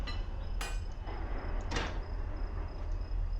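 Two sharp metallic clanks about a second apart ring out over a low steady rumble as train cars couple together in a train simulator game.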